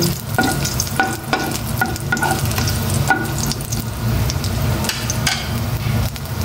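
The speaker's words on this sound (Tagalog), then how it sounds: "Gisa muna ako ng bawang kasi gusto ko ginigisa ko yung ampalaya na may bawang" Garlic sautés in a pan for bitter gourd with egg, a steady close sizzle with repeated scraping stirs and utensil taps on the pan, no voices.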